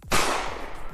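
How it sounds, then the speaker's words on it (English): A single loud gunshot sound effect, fired by a stream channel-points redemption, cracks sharply and then rings out in a long decaying echo, heard alone with no talking. "Like someone can do a gunshot."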